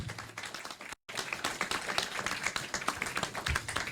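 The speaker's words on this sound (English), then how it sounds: "I would really like to give a big round of applause to the veterans who are here today" A smaller audience claps for veterans present at the event, with individual claps distinctly audible and a brief cut in the sound near the start.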